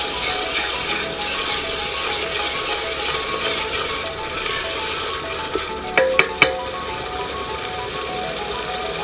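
Mutton mince sizzles in a hot pan while being stirred, a constant frying hiss with a few clinks of a utensil against the pan near the end.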